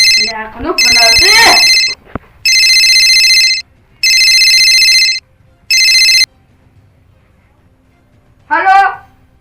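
An incoming call's phone ringtone in a comedy skit: four loud, bright electronic ringing bursts separated by short gaps, with voices talking briefly before the ringing and again after it.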